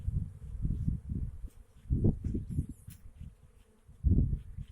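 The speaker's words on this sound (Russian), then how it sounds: "Пчела Бакфаст идет большим потоком." Buckfast honeybees stream in and out of apiary hives on a warm afternoon, giving a soft, low buzzing drone that swells in several close passes and fades between them, with no talk.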